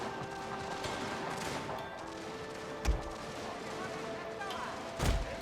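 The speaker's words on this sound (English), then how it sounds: "And now the guards firing from overhead." Guard units in a Total War battle with a Russia faction fire musket volleys overhead: two sharp, booming cracks about two seconds apart rise over a steady rumble of battlefield noise.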